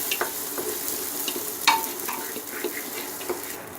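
Kalijira rice stirred into hot fat with onions in a pan for plain polao, giving a steady soft sizzle with scraping stirs and a brief sharper clink partway through, no voices.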